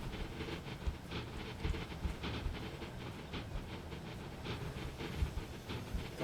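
A freight train rolls through a rail yard in Transport Fever 2, a steady rumbling clatter of wagons with hissing and irregular knocks, continuous and fairly loud with no voices.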